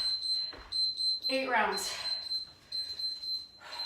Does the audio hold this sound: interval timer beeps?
yes